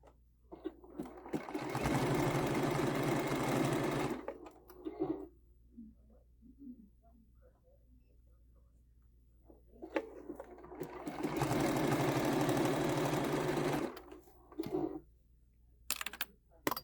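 A sewing machine stitches a quilt-as-you-go table runner in two loud, steady runs of several seconds each, separated by a quiet pause with faint handling sounds.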